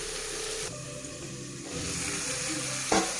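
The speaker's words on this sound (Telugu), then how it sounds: "స్లో మంట మీద ఫ్రై చేయాలండి, లేకపోతే మాడిపోతుంది." Red chilli and tomato chutney frying on a low flame gives a soft, steady sizzle with a faint hiss, which dips briefly and then returns, heard close and quiet.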